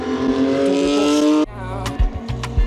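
Porsche race cars at the Spa-Francorchamps Belgian Grand Prix, a loud sustained engine roar at high revs that cuts off abruptly, followed by lower engine rumbles and further passing bursts.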